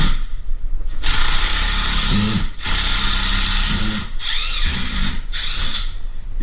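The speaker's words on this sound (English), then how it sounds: "So for this, I got my drill." A cordless power drill backs out the screws holding a toilet during a wax ring replacement, with loud high whining bursts broken by brief pauses and short lower ratcheting tones, no talk.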